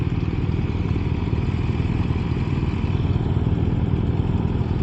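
A BMW motorcycle with Automated Shift Assist being ridden, its engine droning at a steady, even pitch with a faint mechanical clatter, moderately loud and without talk.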